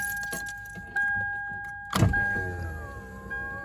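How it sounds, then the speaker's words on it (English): Electric power window on an older, cheap used car running inside the door with a steady whine, followed by a thump as it stops and a softer motor hum after, close and clear with no talking. "let's see if the windows actually still works"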